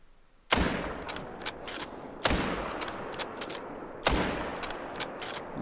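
Three loud, sharp rifle reports from a .308 bolt-action rifle ring out during a coastal whitetail buck hunt. Each shot echoes and decays for over a second, and the shots are spaced roughly two seconds apart with no speech.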